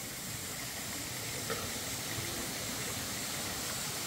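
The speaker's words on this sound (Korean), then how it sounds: "때에 따라서 소리가 아홉 가지 들린다고 해서 구성폭포라고도 한답니다." Gusong waterfall at Cheongpyeongsa temple on Obongsan, a steady broadband rush of falling water, loud and continuous without a break, with no voices over it.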